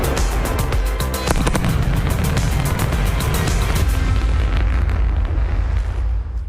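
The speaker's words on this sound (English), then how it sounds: "Just heard the 2 sonic booms here in the room." Deep, continuous rumbling roar with two sharp percussive sonic-boom thumps near the start, heard indoors as a SpaceX Falcon booster lands after a Starlink launch.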